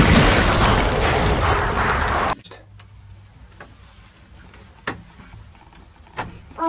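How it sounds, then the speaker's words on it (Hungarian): Dynamite blasts open a treasure door in an animated adventure. A loud, roaring burst lasts about two seconds and cuts off abruptly, leaving a quiet space with scattered faint clicks and knocks. "Szereztem dinamitot, robbantsuk fel!"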